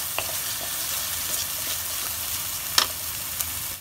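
Mustard and poppy seed paste sautéing in a pan for a pomfret fish dish, giving a steady soft sizzle with a few faint taps and one sharper scrape of a spatula, with no voices.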